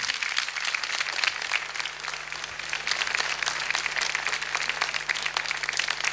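Sustained applause from a concert audience at a Turkish art-music night, a dense steady wash of many hands clapping with no breaks, fairly close and even in loudness throughout.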